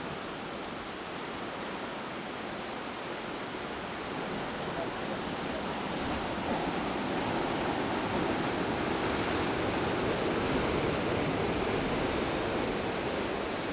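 Surf breaks against coral rocks and a cove along the southern coast, a broad, steady wash of ocean noise that swells slightly louder in the second half, with no talk over it.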